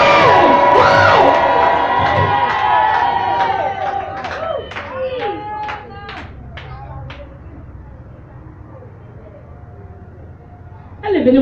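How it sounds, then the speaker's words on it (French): A church congregation shouts and cheers in a loud burst of whoops and cries that gradually fades into scattered calls and murmuring, then surges again briefly at the end. "Je vais entendre crier."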